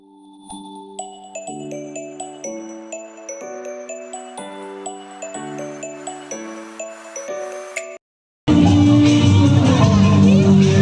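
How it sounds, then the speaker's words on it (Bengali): A busy street crowd at a Bengali New Year festival, a dense, loud wash of many voices. It comes in after a stretch of bright, evenly spaced chiming tones that stop briefly before the crowd noise starts. "প্রচণ্ড ভিড়ও ছিল তোমরা দেখতেই পাচ্ছ"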